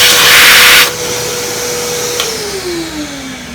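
A small dedicated vacuum cleaner clears coffee grounds from an Anfim manual grinder, starting with a loud close suction burst that drops to a steadier drone, then its motor pitch slides downward as it winds off.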